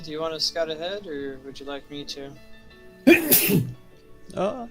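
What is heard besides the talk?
sneeze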